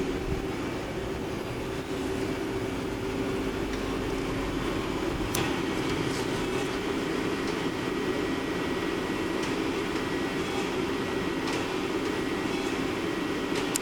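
An Okuma ES-L6II CNC turning center spinning at 3000 rpm gives off a steady, fairly quiet mechanical hum with a constant tonal whine, running alone and unbroken with a few faint ticks.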